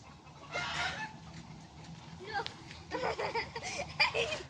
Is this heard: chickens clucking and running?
yes